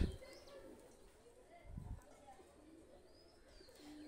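A female Pakistani high flyer pigeon with cream eyes gives low, soft coos in a couple of short bursts against a quiet background.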